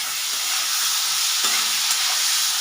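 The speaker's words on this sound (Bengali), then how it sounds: "এগুলোকে একটু ভালো করে ভেজে নেবো, লাল লাল করে।" Bitter gourd pieces frying in oil in a pan, a dense continuous sizzle with a stirring scrape partway through, close and fairly loud, with no talking.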